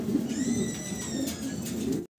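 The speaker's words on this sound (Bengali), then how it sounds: "খুব চঞ্চল কবুতরগুলো দেখতে পারতেছেন দর্শক।" A Blue Barless Golden Artangel pigeon pair coos in soft, repeated low calls close by, with a faint high tone above, then the sound cuts off abruptly.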